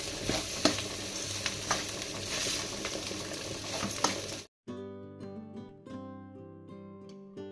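Cooked rice being stirred into a sizzling tempering in a pan, giving a loud hiss with rhythmic scraping and clinks of the spoon for about four seconds, then a cut to music.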